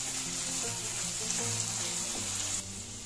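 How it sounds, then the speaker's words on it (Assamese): Potatoes, chickpeas and coconut pieces fry in a pan with a continuous, close sizzle that holds steady before dropping slightly near the end. "দি ইয়াৰ লগত আলুৰ লগত গোটেইখিনি ভালদৰে ভাজি ল'ম।"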